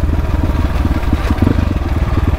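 A Viar Cross 250 motorcycle engine runs close and loud with a rapid, steady pulsing thump, a lumpy single-cylinder beat that holds evenly throughout.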